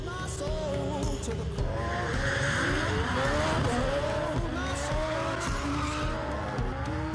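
Cars drift in The Crew 2 racing game, tires squealing in long wavering screeches over loud, steady engine roar, with layered skids sliding up and down throughout.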